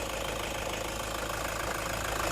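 A 2006 Toyota Commuter van engine idles steadily and loudly up close, a constant rumbling drone with a faint mechanical knock.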